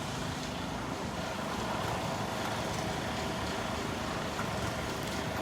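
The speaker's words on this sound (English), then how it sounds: "the sound of a diesel engine in the background" A diesel engine drones steadily in the background at a beachside resort, a continuous low rumble mixed with wind noise across the whole stretch, fairly loud and unbroken, with no voices.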